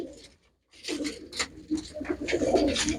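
Pet pigeons coo in a few rolling bursts close by, loud and clear after a short pause, with no talk over them.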